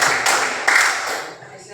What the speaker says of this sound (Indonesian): silakan tepuk tangan untuk dua teman kita